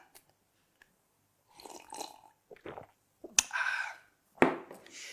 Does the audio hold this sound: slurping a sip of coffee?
yes